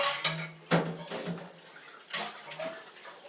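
Running water splashes and gurgles close by as milking machine equipment and its lid are rinsed, with uneven surges and knocks against a basin.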